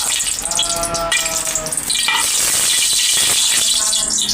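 Oil sizzling and crackling steadily in a pan while ginataang gulay with yellowfin tuna is cooked, a loud, continuous frying hiss throughout.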